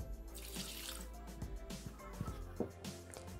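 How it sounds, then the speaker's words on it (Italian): Water poured into a Thermomix bowl while cooking saltimbocca al Marsala, a running, splashing trickle with faint drips, close and steady throughout with no talk. "Aggiungiamo l'acqua,"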